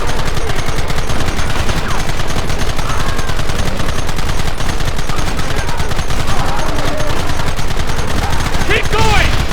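Dense, continuous gunfire from a fort battle in the video game Red Dead Redemption, rapid overlapping shots and bursts at a steady loud level throughout, with shouted voices mixed in.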